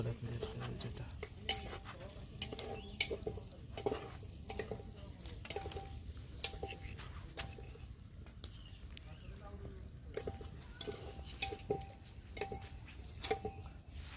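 A spoon stirring pakoda frying in a pan in an Odia home kitchen: soft, steady scraping and light clinks over a faint sizzle, under ongoing conversation.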